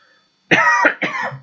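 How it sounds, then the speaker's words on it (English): A close, sharp cough into an arm, two quick bursts in a row, loud against an otherwise quiet room. "Let's see how I coughed into my arm."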